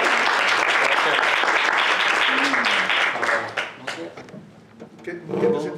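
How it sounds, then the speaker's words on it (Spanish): A class at a mariachi vocal interpretation lesson applauds in a loud, dense burst for about three seconds, then the clapping thins to scattered claps as voices begin talking. "Aplausos acá."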